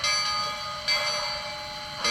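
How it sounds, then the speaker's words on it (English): Model locomotive bell on an Athearn engine, a steady electronic ringing with bright tonal lines that swells at a few points, loud and close with no voices. "All right, here is the bell."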